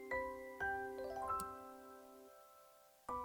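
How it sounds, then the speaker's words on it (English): Bare branches rattle overhead in a light breeze like wooden wind chimes in the game Katawa Shoujo, heard as a few soft, ringing chime-like strikes with tones that hang and fade, quiet and alone. "A light breeze causes the naked branches overhead to rattle like wooden wind chimes"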